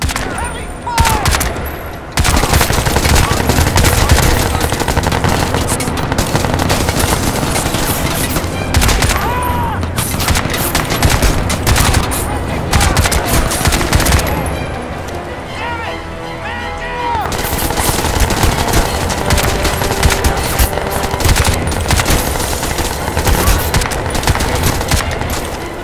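Heavy sustained gunfire in the shooter game Crysis 2, dense automatic bursts and explosions roaring almost continuously and loudly for the whole stretch, easing slightly midway before building again, with brief shouted voices.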